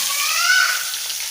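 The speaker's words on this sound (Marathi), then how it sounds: "कांदा थोडासा परतून घेऊया" Onion fries in oil with asafoetida, cumin and curry leaves, a brief bright hiss that swells and fades, heard alone at close range.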